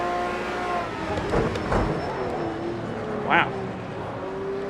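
A BMW Z4 GT3 race car sweeps past in Project Cars 2, engine rising and fading as it goes by under a continuous motor drone, while a voice speaks briefly over it.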